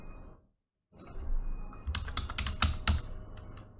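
Rapid clicking of keys on a computer keyboard while entering figures into a table, close and fairly quiet, with a short silent gap near the start and a few sharper, louder taps toward the end.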